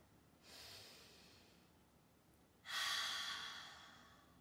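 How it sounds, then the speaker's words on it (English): Two slow, deep breaths drawn in and pushed out, with soft airy whooshes during a children's yoga class for ages 2-7, the second exhale louder and closer, no talking. "One more big banana belly breath."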